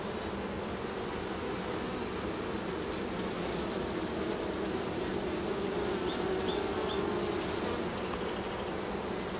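Honeybees drone in a steady, dense buzz during a hive inspection, close and continuous with no talk throughout.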